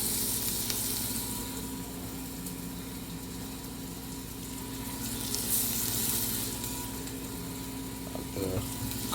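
Ginger and garlic frying in salted butter over medium-high heat, a dense steady sizzle that swells and eases slightly, with a brief clatter near the end and no speech.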